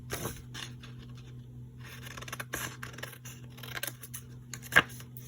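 Scissors cutting rectangles out of paper for library pockets, a run of close, crisp snips and paper rustles at an irregular pace, quiet and with no voices.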